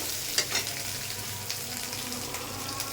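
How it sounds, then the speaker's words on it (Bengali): Onion and garlic frying in a pan give a low, steady sizzle, with a few brief clinks of stirring near the start and no voices. "পেঁয়াজ রসুন ভাজা হয়ে গেছে"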